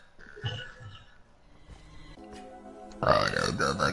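A gamer girl lets out a burp, with scattered low grunting sounds and a loud burst of noise near the end, close to the microphone.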